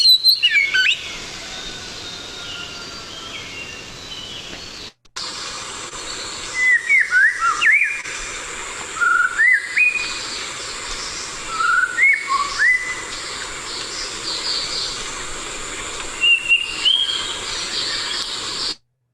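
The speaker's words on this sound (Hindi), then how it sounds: "तो ये आवाज थी बहुत ही एक सुंदर आवाज करने वाली, गाने वाली चिड़िया है, श्यामा बोलते हैं उसको" A recording of a white-rumped shama plays its rich songbird phrases: clear whistled notes and rapid warbling trills delivered in separated bursts with short pauses, loud against faint hiss.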